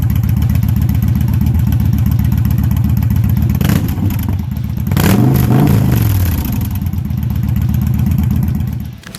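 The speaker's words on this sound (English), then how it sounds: "Exhaust sound of Victory Vegas 8-Ball." Exhaust of a Victory Vegas 8-Ball cruiser motorcycle: a steady, deep idling rumble, then a sharp rev that swells and falls back to a loud, close idle before fading at the end.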